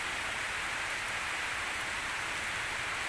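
Steady rain falling at an outdoor hot spring, a continuous dense hiss of drops on water and surfaces, even and moderately loud throughout with no voices.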